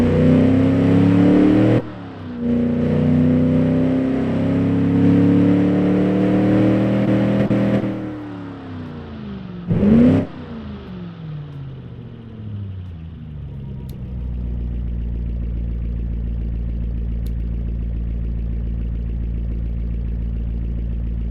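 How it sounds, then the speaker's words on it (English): A Chrysler LA 318 V8 engine runs close by with a deep, steady rumble, its pitch dipping and surging briefly midway before settling into an even, low idle; no voices. "Wow, this thing idles pretty nice. I love the V8 noise."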